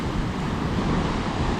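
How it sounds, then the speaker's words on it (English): Ocean surf and gusting wind on Sunny Isles Beach, Florida, during a tropical storm roar in a dense, constant wash with heavy wind buffeting the microphone. "when the wind kicks all that ocean up."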